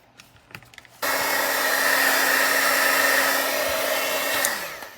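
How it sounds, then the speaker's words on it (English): Heat gun drying damp cardstock for an embossed card switches on abruptly after a few faint clicks, blowing a loud steady whirring hiss for several seconds before winding down. "I'm going to use my heat gun and I'm going to dry this mostly"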